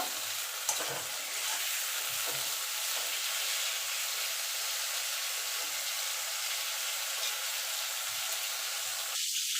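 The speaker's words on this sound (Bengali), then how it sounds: "বেগুনগুলো আমি ভেজে তুলে নেব।" Eggplant slices fry in hot oil, giving a steady, close sizzle with a soft bubbling hiss that runs unbroken from start to finish.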